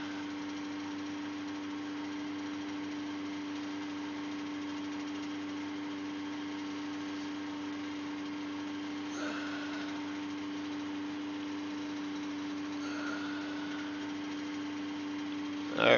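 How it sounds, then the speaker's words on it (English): A loud, steady mechanical hum of a boat's hydraulic system with a constant low drone runs throughout, with faint brief rattles, while trolling for king salmon in Southeast Alaska. "my hydraulics are loud"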